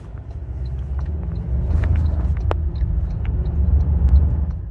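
A 2024 Toyota Tacoma pickup pulls away with a steady low engine rumble that builds slightly, close and continuous, with a few faint higher clicks over it and no talk.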